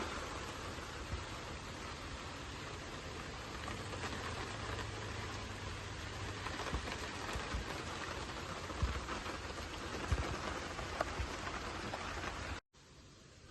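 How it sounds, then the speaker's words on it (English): Steady rain falling outdoors during the forest fire season, a constant soft hiss at low level with occasional faint drops, cutting off abruptly near the end. "3 p.m. and it started raining."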